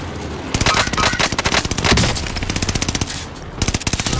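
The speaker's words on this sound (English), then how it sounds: "The bastards are shooting at me." Rapid automatic gunfire in a shooter video game, with loud close bursts of many quick shots, brief pauses between the bursts, and no talking over them.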